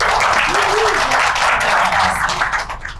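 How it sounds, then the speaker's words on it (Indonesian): A crowd at a regional organisation's opening assembly in Bali breaks into applause, with loud, sustained clapping and some voices mixed in, tapering off slightly at the end. "Tepuk tangan."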